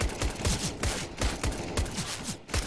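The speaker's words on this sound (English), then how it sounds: "we are seeing Quillian now with the USB just tapping away, but he is doing some pretty decent damage" Rapid pistol fire in a Counter-Strike esports match, a quick series of sharp repeated shots in bursts with small gaps, loud and close over faint background game noise.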